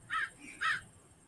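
Blackbirds being scared away from a corn field give two harsh caws, close and fairly loud, with a short gap between them and no voices.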